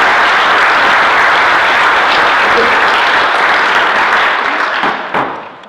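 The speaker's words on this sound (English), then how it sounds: "please join me in a round of applause for Matty Sutton." An audience at a Youth Speaks school public-speaking final applauds after a speech, loud, dense clapping sustained for several seconds before tapering off with a few last claps.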